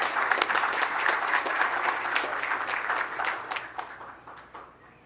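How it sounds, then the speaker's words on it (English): Applause from a crowd at an attorney general candidate's concession event, for his wife; brisk, dense clapping that holds steady, then thins and fades over the final second. "let's go ahead and give her a big round of applause"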